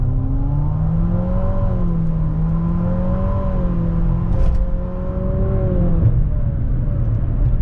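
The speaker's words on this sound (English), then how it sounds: "we're gonna do a quick little acceleration here and there. Foot to the floor." A 2019 Infiniti QX50 with a CVT accelerates hard in sport mode, its engine droning loud and steady from inside the cabin, the pitch wavering and climbing slightly before easing off, with no talking.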